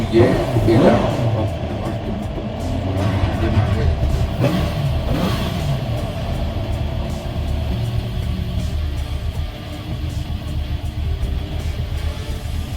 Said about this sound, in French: là on va pouvoir avec le bouton poussoir démarrer